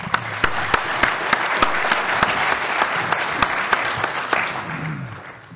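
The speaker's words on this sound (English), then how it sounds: "how about a round of applause?" An audience at a business talk on vertical construction opportunities gives a round of applause, a dense steady clapping with sharp, evenly spaced claps standing out up close before it tapers off.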